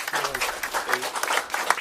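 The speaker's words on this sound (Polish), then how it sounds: "Brawa dla profesora." Audience applause at an art gallery opening for a painting exhibition in Lublin: a steady wash of clapping lasting under two seconds, mixed with voices talking over it.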